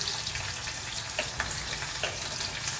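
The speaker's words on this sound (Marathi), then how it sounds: "आता कांदा आपण तेलात सोडू" Onion dropped into hot oil in a home kitchen, a steady close, dense sizzle and crackle throughout with small pops, no talking.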